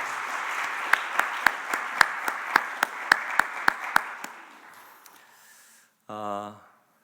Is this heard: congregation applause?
yes